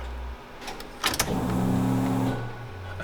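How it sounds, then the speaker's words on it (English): A steady electric whine from a Jeep Cherokee's electric fuel pump hums for about a second and a half after a few brief clicks and rattles, then drops to a lower drone. "That's a loud fuel pump."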